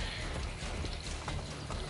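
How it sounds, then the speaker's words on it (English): A horse in Assassin's Creed Brotherhood walks with steady, repetitive hoof clip-clops under a faint mechanical rattle, at a fairly quiet level. "But the horse is still walking."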